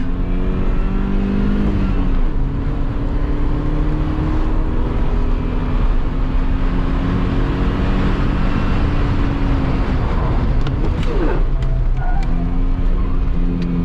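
A BMW E30 family wagon with a swapped M54B30 inline-six accelerates hard at high speed, its engine note loud and steady with rising pitch, heard from on board over wind rush and no talk.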